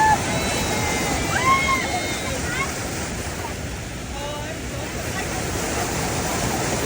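Heavy rain pouring down on a hiking trail along the West Highland Way in the Scottish Highlands: a dense, steady roar of falling water mixed with gusting wind, loud and close throughout.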